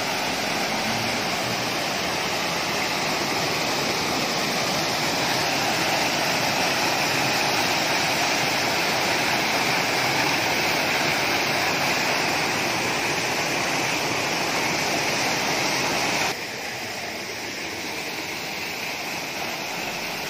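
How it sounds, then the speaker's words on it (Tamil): The small Wadakada Ella waterfall roars steadily and broadband, close by, then drops slightly in level near the end. "இது ஒரு சின்ன நீர்வீழ்ச்சி"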